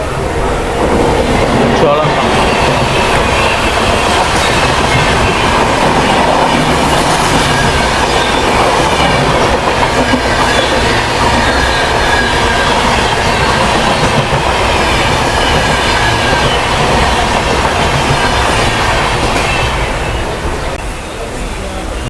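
The Cholan Express train rumbles past close by for the whole stretch, loud and steady, with rhythmic clickety-clack of wheels and occasional squealing.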